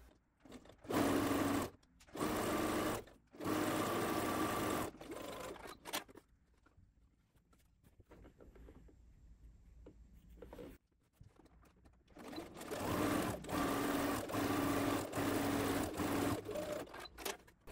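A sewing machine understitching the top of a frock's faux shirring panel runs in several short close bursts, then goes quiet for a few seconds before a longer steady run.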